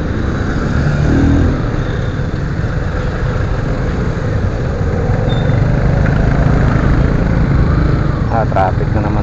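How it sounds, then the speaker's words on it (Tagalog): Heavy road traffic with cars and motorcycles rumbles continuously and loudly nearby, engines droning and occasionally revving in a steady mass of sound, with no talking over it. "Traffic na naman to. Grabing traffic na naman."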